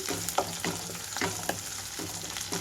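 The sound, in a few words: onions frying in a pan for thotakura masala curry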